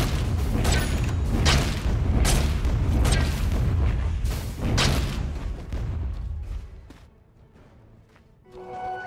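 A tower under attack in the video game Dota 2, with repeated heavy booming impacts landing every second or so over a rumbling battle bed, fading toward quieter game ambience at the end.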